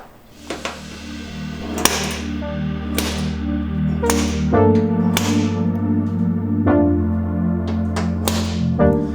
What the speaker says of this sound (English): I'm using this automatic center punch so I can accurately drill in the center of each of these mounting holes